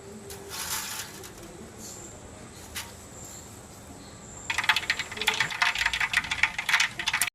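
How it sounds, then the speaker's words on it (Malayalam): Mustard seeds pop and crackle in hot oil in a pan for a Kerala-style turkey roast, quiet at first, then a dense burst of rapid sharp pops over the last few seconds. "കടുക് പൊട്ടി നമുക്ക് തേങ്ങ ഇടാവേ"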